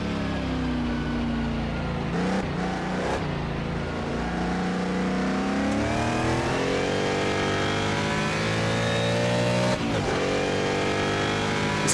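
Historic sportscar engines at Riverside in Assetto Corsa, a Matra and a Ferrari nearby, drone loudly without pause; pitch sweeps down through gear changes and climbs again under acceleration, with brief dips as the car lifts off.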